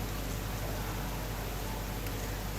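Heavy rain pours down in hill country, making a continuous, dense hiss with a low rumble beneath it and no other clear sounds.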